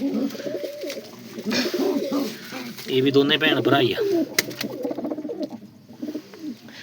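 Paired pigeons, a brother-and-sister breeding pair kept by a fancier, cooing close by in repeated soft rolling calls while someone talks over them.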